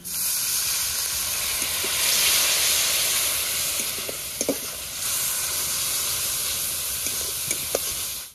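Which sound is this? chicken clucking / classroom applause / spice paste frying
spice paste frying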